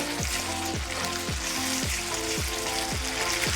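Beef hitting hot oil and well-fried spice paste for a spicy beef-with-beetroot curry, giving a steady, close, continuous sizzle with a repeating tonal pattern running underneath.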